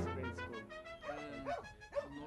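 A grey Norwegian moose hunting dog gives three short, sharp barks about half a second apart over a steady background drone, fairly quiet overall.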